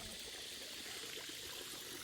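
Water trickles steadily over a small spillway in a backyard fish pond converted from an old spa bath, a soft continuous burble, faint and even, with no talking.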